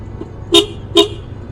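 Two short car horn toots, evenly spaced, sound over a low road rumble.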